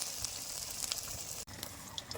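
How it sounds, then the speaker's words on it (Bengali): Battered taro pieces frying in hot oil give a steady, soft hiss and crackle with scattered small pops, heard alone at close range. "চুবিয়ে নিয়ে সুন্দর করে তেলে ভেজে নিতে হবে।"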